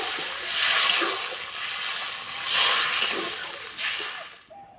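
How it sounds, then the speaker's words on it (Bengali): Water poured into a pan of spice-fried potatoes for a light fish curry, a steady hissing splash rising and falling in loud surges for several seconds before cutting off. "এবার সিদ্ধ হওয়ার জন্য জল দিয়ে দেবো।"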